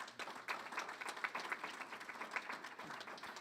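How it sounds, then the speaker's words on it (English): An audience at a university alumni awards ceremony claps for an award recipient in a short, fairly faint burst of scattered applause. "You can give her a round of applause."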